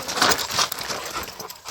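A dog pants rapidly and breathily up close during an evening walk, with quick airy breaths and a faint whimper, no talking.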